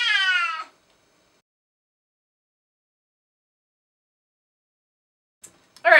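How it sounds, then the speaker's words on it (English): A pet cat gives two meows, one at the start and one at the end, each loud and close, separated by several seconds of near silence. "And there's my cat."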